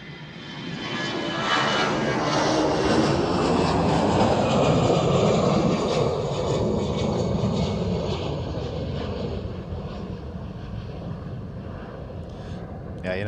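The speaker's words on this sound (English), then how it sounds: "I can see already the Etihad A321 coming here." An Etihad Airbus A321 jet passes at Amsterdam Schiphol airport with a broad engine roar that swells to a peak and then gradually fades.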